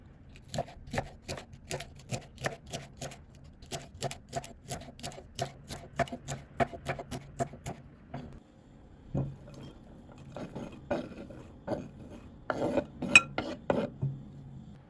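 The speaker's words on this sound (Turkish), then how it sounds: "Şimdi doğrama işlemine geçelim." Rapid, regular knife chops strike chard stalks on a board in a steady rhythm, then pause and resume more irregularly with clattering taps.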